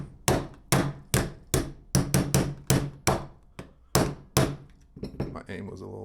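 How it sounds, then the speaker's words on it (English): A hammer drives a spring kit pin into a Ruger LCP II Lite Rack .22 LR pistol, with about ten sharp, evenly paced metallic taps up close, then a few lighter knocks at the end. "once you start hammering it, it kind of just lines everything else"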